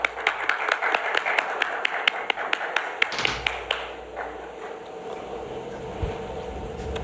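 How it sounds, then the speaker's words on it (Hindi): Audience hand clapping during a stage welcome at an Atomy India award ceremony: brisk, evenly spaced claps for about three seconds, then thinning into a softer murmur of room noise. "जोरदार तालियां"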